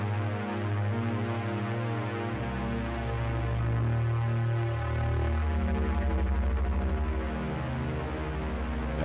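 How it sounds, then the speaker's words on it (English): A loud, buzzing Eurorack modular synthesizer tone drones continuously, thick and gritty with distortion, its pitch stepping between low notes. "That is some distortion going in there."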